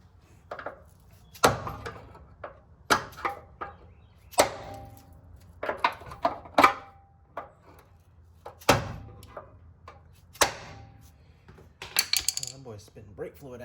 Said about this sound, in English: hammer this thing right here, hammer that off. That will free up this brake line